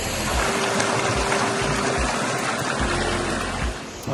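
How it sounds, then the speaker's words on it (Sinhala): Ruwilella waterfall on the Pitakele river, at the edge of the Sinharaja forest, roars in a steady, loud, broadband rush of falling water that holds unbroken throughout, close by with no voices. "පිටකලේ ගඟේ තියෙන රුවිලැල්ල මේක"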